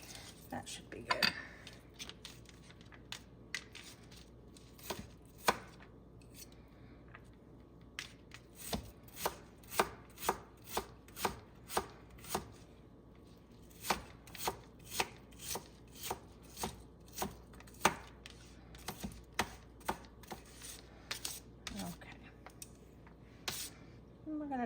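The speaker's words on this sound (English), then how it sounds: "We're going to dice this really fine, because we don't want big chunks." A kitchen knife finely dices an onion on a cutting board, a long run of crisp, close chops in quick irregular bursts with brief pauses between strokes.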